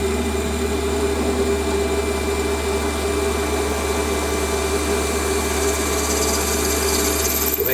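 A 10 mm spotting drill cuts a start hole into irregular metal stock on a machine, giving a steady, loud mechanical whir and hum with constant motor tone throughout and no pauses.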